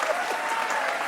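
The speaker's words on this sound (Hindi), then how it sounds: "जोरदार ताली है।" A studio audience at a courtroom-style television interview show breaks into loud, steady applause, a thick continuous wash of many hands clapping close and full throughout.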